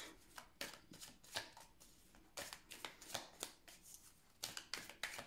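A deck of tarot cards is cut and shuffled in soft, quiet bursts of riffling and snapping, clustered in irregular groups with brief pauses between, close and faint with no talking over it.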